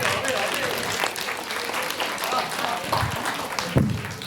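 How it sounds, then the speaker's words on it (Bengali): Sustained crowd clapping for children in costume, one dressed as a mouse, at a Go As You Like fancy-dress event. The applause is dense and steady, with a murmur of voices mixed in. "একটু জোরে হাততালি দিতে হবে এদের জন্য।"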